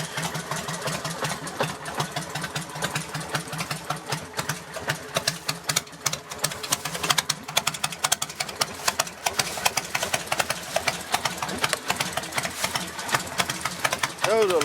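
A Kawasaki Vulcan 1500 motorcycle with an aftermarket Long Shot exhaust idles with a steady, rapid, throaty chug throughout, loud and close, with a voice speaking over it at times.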